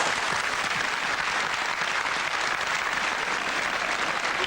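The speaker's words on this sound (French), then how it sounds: "Applaudissez-les." An audience at a televised fashion show of autumn-winter 1995 collections applauds continuously, a thick, even wash of clapping heard close and loud throughout.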